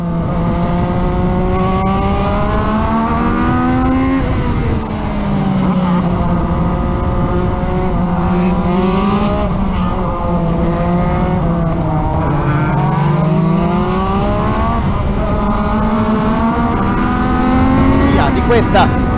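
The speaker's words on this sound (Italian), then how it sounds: "Questa gara 1 della FX3 che scatta in questo momento dopo due tornate percorse alle spalle della safety car" FX3 race cars starting race 1 after running behind the safety car produce a loud, sustained engine drone whose pitch rises and falls as the cars accelerate and lift, with a brief sharp burst near the end.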